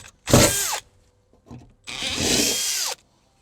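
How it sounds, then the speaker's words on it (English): A power drill whirs through metal, widening holes to 7mm, in two bursts, a short one and then a longer one, each winding down as the trigger is released. "we're going to take these 2 holes here out to a 7mm with a drill"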